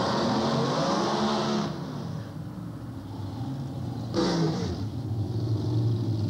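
An old 12-year-old dragster motor with a two-speed Powerglide transmission at a 1985 Australian drag racing nationals, roaring in a loud sustained drone that drops briefly before surging again near the end.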